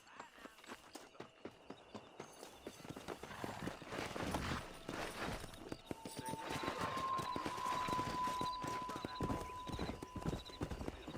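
Horse hooves clip-clopping in the western game Red Dead Redemption, starting as a quick patter that builds into a galloping rhythm under a steady background roar, with a voice and a faint whinny-like tone mixed in.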